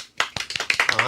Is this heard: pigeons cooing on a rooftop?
no